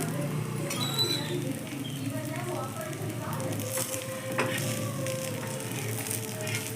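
Adai dosa sizzling on a hot pan just after being flipped: a steady, soft frying hiss with small crackles and a few light scrapes, close by, with a voice faintly present.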